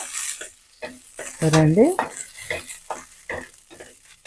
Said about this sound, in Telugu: ఇదండి చూడ వేగింది, పచ్చిమిరపకాయలు వేగినాయి.